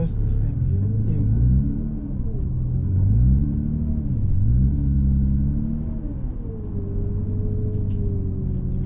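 A Nissan GTR slowly reversing into a low driveway, its engine giving a deep, steady rumble that rises and falls gently with throttle, close by, with someone talking throughout.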